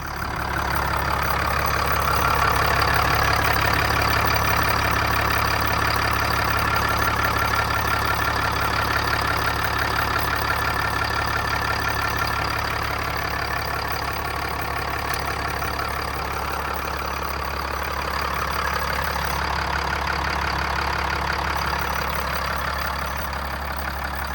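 A 2017 Ram 5500 4x4 mechanics truck with a Cummins diesel idles with a steady, even rumble, held close and constant for the whole stretch with no voices.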